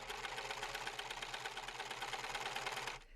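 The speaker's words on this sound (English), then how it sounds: "the nice thing about a serger, make sure I'm not talking when it's going, is that it goes pretty quickly" A serger overlocks a fabric edge for a crochet towel topper, its needles chattering in a fast, even mechanical buzz close by, then stopping abruptly at the end.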